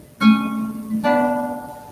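Two clear guitar notes plucked one after another, each ringing out and sustaining, with no voices.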